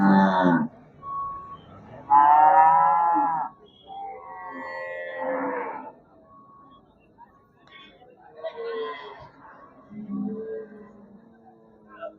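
Jersey cross cattle at a livestock market in Melapalayam, Tirunelveli, give several drawn-out moos, one loud and close, over a busy background of people talking.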